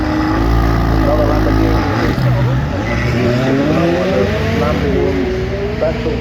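A Lamborghini special projects car, presumably V12, running uphill at the Goodwood Festival of Speed, its loud engine note climbing and rising through revs close by, with a commentator talking over it.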